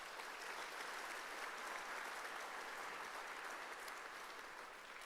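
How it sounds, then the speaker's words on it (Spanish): Steady, dense applause from a church congregation, loud and sustained for about five seconds, tapering slightly at the end. "Eso merece un fuerte aplauso al Señor."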